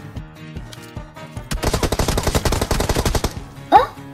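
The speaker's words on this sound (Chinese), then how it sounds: "前面有枪声。" Gunfire in the Metro Royale mobile shooter game: a few isolated shots, then a loud rapid automatic burst lasting about two seconds, followed by a brief voice.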